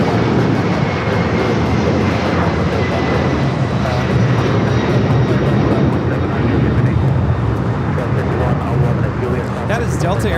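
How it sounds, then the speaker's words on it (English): A Delta Air Lines Boeing 767-400ER takes off from Los Angeles LAX, its jet engines giving a loud, steady, broadband roar that holds throughout, with a voice talking over it. "That is Delta Airlines 958 taking off to JFK on the 767-400 ER"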